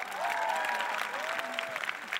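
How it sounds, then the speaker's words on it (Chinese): An outdoor summer jazz party audience applauds itself, with a steady wash of clapping and crowd noise while a voice talks over it. "给自己一个掌声好不好"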